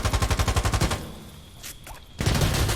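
Rifle fire sprays in a competitive video game shooter match: rapid rhythmic bursts of shots, a quieter pause with faint clicks, then another close, loud burst.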